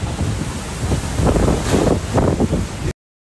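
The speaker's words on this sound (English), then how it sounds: "look at the wind!" Strong wind roars outdoors in a snowy setting, a loud steady buffeting rush across the microphone with heavier gusts in the middle before it cuts off abruptly.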